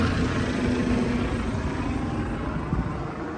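Helicopters flying overhead, a loud, steady broadband roar of rotors and engines with a faint low hum, continuous across the whole stretch.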